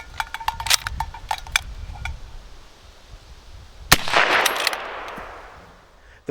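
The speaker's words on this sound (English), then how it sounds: "The primary magazine fell out upon activation of the latch and was caught, as intended, by the chain link to dangle under the forestock." A Mk I Lee-Metford rifle's magazine is released by its latch and drops to dangle on a chain link: a run of small metallic clicks and taps, then a sharp clack followed by a brief jingling rattle.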